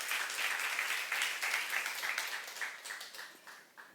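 A church congregation at a youth-group sermon claps together for about four seconds. The applause is moderately close and fades gradually toward the end.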